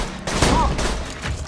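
Several quick shotgun blasts in the video game Borderlands 2, a few sharp bursts fired in close succession.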